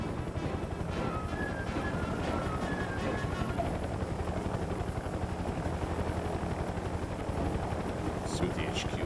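A helicopter in the Mercenaries 2 video game flies with a steady, loud rotor thrum and engine drone, heard continuously under game sounds with voices talking over it.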